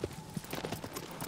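Horse hooves in the video game Shadow of the Colossus, a quiet irregular clip-clop of several hoofbeats at a quick trot or gallop, faint and somewhat distant, with no talking.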